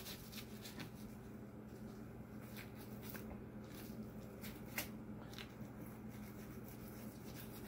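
A knife slices through raw venison being broken down for canning, heard as soft, faint, close rubbing and squishing strokes repeated irregularly over a quiet hum.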